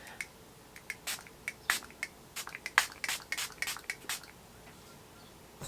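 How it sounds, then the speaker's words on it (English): A Ciate London setting spray is misted onto a face in a quick series of short, sharp pumps, some clustered close together, near and fairly quiet against a silent room. "I'm just going to spray my face"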